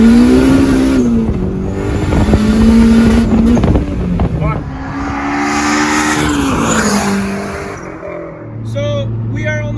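A turbocharged K20-swapped Honda Del Sol pulls away on its first drive, engine note loud and close, rising and falling through revs with mechanical whine, as people talk over it.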